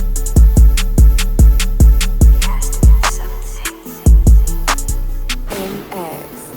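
Hip-hop beat mixed with varied levels, a punchy kick cutting cleanly through deep 808 bass under a melodic loop, steady and loud with a short break before a final fading wash.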